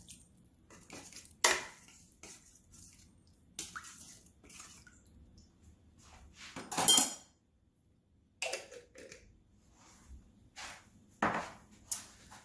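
A spoon scrapes and taps against a pot while vegetarian tom yum paste is scooped into a hot pot, with a few sharp metallic clinks and soft scraping separated by quiet pauses.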